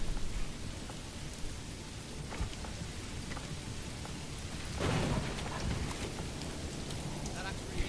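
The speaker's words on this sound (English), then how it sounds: "Got rain, got thunder." Steady rain patters throughout in the city-builder game Manor Lords, with a soft, delayed rumble of thunder rolling in partway through; faint scattered drips and taps sit over the downpour.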